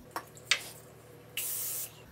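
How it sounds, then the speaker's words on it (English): Cooking spray hisses from a can in one short burst onto the bottom of a 9x13 pan for Rice Krispies treats, preceded by a couple of faint taps in a quiet kitchen. "I'm just going to lightly spray the bottoms just so we can easily get our Rice Krispies out."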